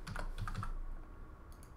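Quick keystrokes on a computer keyboard, a short close burst of soft clicks over a low steady room hum.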